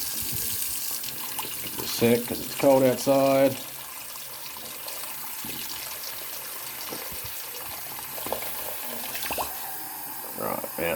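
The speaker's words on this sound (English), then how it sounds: "I'll grab some hot water out of the tap." Hot water gushes from a kitchen tap into a sink, running steadily beneath a voice, with brief louder bursts of speech partway through.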